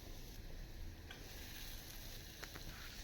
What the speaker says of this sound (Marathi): त्यामध्ये बारीक चिरलेला कांदा टाकून चांगला परतवून घेऊया